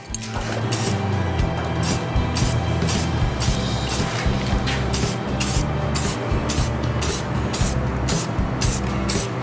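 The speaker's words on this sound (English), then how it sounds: "This stuff is really thin, so you want to spray it carefully." Steady hiss of an aerosol spray can applying a coat, with repeated short bursts pulsing through a continuous mechanical hum.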